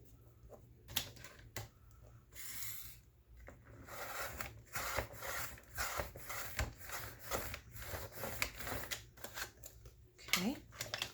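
Scissors cutting tulle fabric for a stuffed journal pocket, soft rustling snips and rubbing in close bursts, with someone talking over the cutting.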